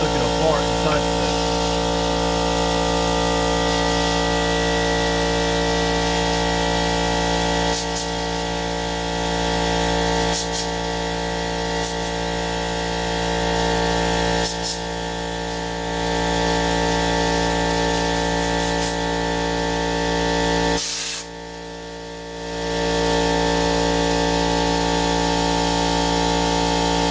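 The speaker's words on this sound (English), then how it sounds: "I know that compressor's loud, guys, but we gotta have it." An air compressor runs continuously nearby in a workshop during Kawasaki FA210 carburetor work, a loud, steady droning hum with a few short dips and a brief drop near the end.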